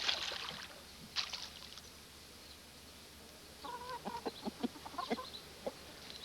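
Chickens eating duckweed give soft clucks and a few sharper calls, faint and nearby, first scattered and then in a quick rhythmic run of short clucks toward the end, with low background noise.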